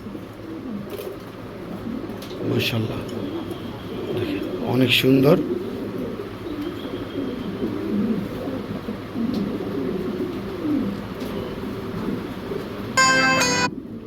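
White JNS pigeons at a dealer's pen coo in low, repeated throaty bursts beneath steady talk from a man nearby. A short bright electronic chime sounds near the end.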